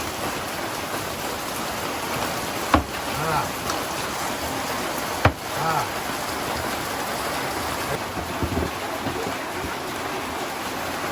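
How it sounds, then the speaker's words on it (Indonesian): Rain falls steadily in a broad, even wash, with a voice speaking briefly over it and two sharp knocks standing out from the downpour. "Urang mah ulah sieun ku hujan, hujan teh rezeki."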